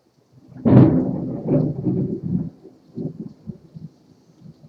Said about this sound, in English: There's the thunder we know and love.